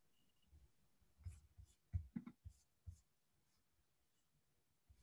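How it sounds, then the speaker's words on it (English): Soft, irregular clicks and taps from a computer keyboard and mouse sound close and faint, in scattered bursts against a quiet room. "I was clicking and typing in the other window."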